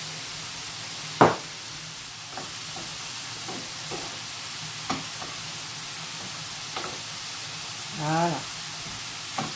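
Beef cooks over low heat in a pan with a little sesame oil, giving a soft, steady sizzle punctuated by a few light knocks and stirring scrapes, with a brief spoken word near the start.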